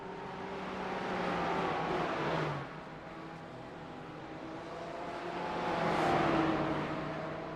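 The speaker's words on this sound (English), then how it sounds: "Jesse Coffey is closer and closer in the blue Porsche to Travis Rowe and the BMW purple and green." Race cars, including a blue Porsche and a purple and green BMW, roaring around the Charlotte Motor Speedway Roval, engine drone swelling and fading as cars pass at moderate distance.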